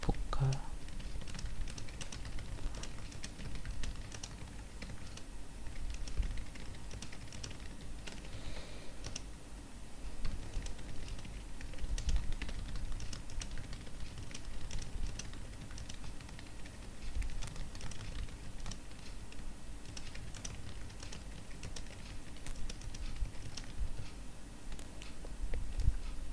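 Computer keyboard typing during a Microsoft Word lab session, with steady soft clicks continuing throughout under a low room background, close and moderately quiet.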